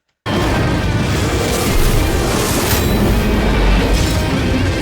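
A huge animated explosion in a Mega Man death battle, bursting in suddenly and then holding as a loud, dense, roaring rumble with no voices.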